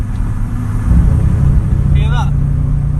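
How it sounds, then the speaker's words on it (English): A 700 bhp Nissan Skyline R33 engine runs rough at idle with a low, uneven rumble, its pitch wavering slightly, close by and running throughout. "Car's not running right."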